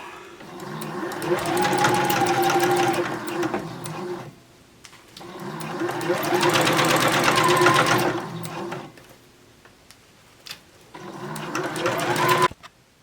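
Sewing machine top stitching a women's surgical cap in three loud bursts of rapid stitching separated by pauses, with short back tacking runs near each burst's end and faint handling clicks between.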